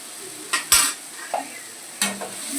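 Turmeric and ginger-garlic paste frying in a pan, a low sizzle broken by a few sharp scrapes and knocks of a spoon stirring the paste, close and clear, with no one speaking.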